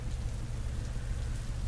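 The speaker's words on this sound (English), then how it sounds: "Unfortunately, we've just had a lot of rain." Rain falls steadily in mountain country, a dense even patter with a low rumbling undertone and no voices.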